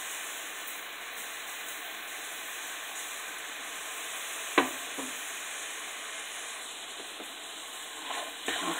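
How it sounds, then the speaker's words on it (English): Potatoes for hash browns sautéing in a pan make a steady, even hiss, with a sharp spatula clatter midway and a few scrapes near the end. "just saute them in the pan until they get brown"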